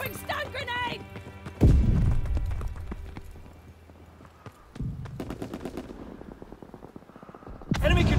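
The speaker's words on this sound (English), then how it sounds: "Throwing stun grenade!" Gunfire and explosive thumps in a Call of Duty WWII domination match as a stun grenade is thrown, with loud bursts near the start, middle and end over a busy battle backdrop.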